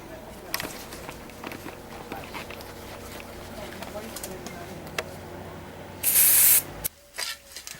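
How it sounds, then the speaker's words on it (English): A loud hiss from an aerosol can of primer, sprayed in one burst of about half a second onto an old gas barrel being made into an air tank. Footsteps, shuffling and outdoor background noise come before it. "I'm going to prime it and paint it because I don't want it looking like an old used gas barrel."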